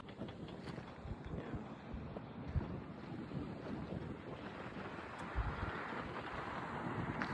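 Wind buffets the microphone in a continuous low rumble on a white sand beach in Fujairah, UAE, with surf washing in the background and occasional gusts thumping louder.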